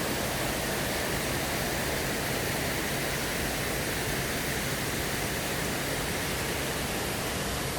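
A dense, constant roar of falling water fills the air, loud and unbroken like a waterfall close by, at Disney's Animal Kingdom theme park.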